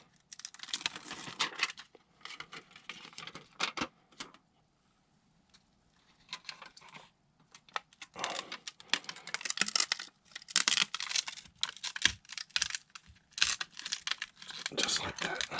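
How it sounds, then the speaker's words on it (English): Foil tape is torn and pressed down over old duct tape on an air-conditioning unit's condensation line, making bursts of close crinkling, tearing and scratchy rustling separated by brief quiet gaps. "I'm just gonna replace the tape, the duct tape that was on there, with this foil tape"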